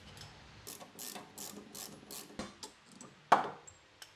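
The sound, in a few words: ratchet removing sway bar link on Subaru Forester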